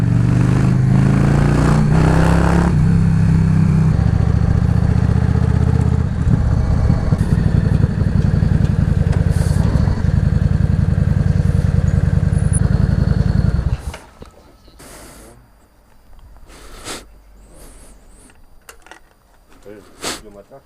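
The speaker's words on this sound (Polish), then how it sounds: "zupełnie inaczej ten motocykl pracuje. To nie jest już rzędówka, to jest już fałka" A V4 motorcycle engine runs loudly with a deep, uneven throb for about fourteen seconds, then cuts off, leaving faint scattered clicks and background noise.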